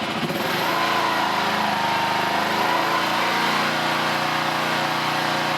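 A Kawasaki KLR 650 motorcycle engine idles steadily close by, a continuous buzzy mechanical drone with no change in pace, heard alone.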